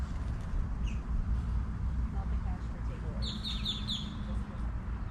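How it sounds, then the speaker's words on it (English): Small birds chirp and tweet outdoors along an old stone wall in historic Mount Dora, Florida, with a brief burst of quick high calls standing out faintly over steady low ambient rumble. "You can just hear the amount of bird life out here,"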